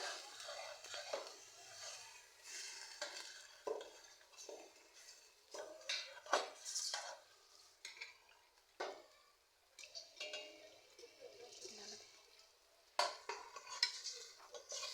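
A spoon stirs curry in a pot on the stove, producing faint, irregular scrapes and metallic clinks, with soft speech in the background.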